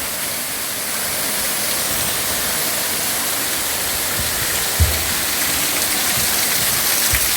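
Water pours onto a levada hiking path in Madeira as a loud, continuous close rushing splash like heavy rain, with a single sharp knock near the end.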